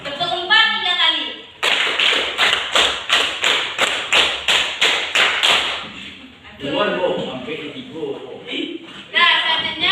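A group of students in a school classroom clapping game claps twelve sharp, even beats, three rounds of four, loud and close, with a voice speaking before and after the clapping.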